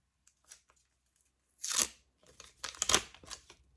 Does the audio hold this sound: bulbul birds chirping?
no